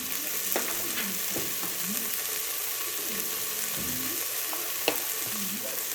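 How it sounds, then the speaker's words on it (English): Vegetables sauté in a pan with a steady, close sizzle and crackle, broken by a few sharp clinks and scrapes of a utensil stirring. "While those veggies are sauteing a little"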